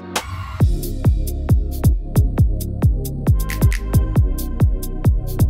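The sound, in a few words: Jersey Club beat switch-up with kick pattern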